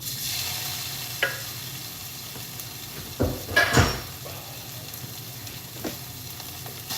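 Sausage sizzles and fries in a pan, a constant hissing crackle with a few scraping stirs and light pan knocks, close up, with no talk.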